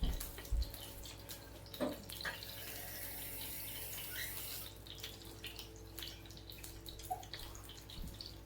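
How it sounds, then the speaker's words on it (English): Water runs steadily from a tap into a bowl for several seconds, close and fairly quiet, with a few small clinks and thumps around it. "They're going to drop in 1 cup of water into the bowl."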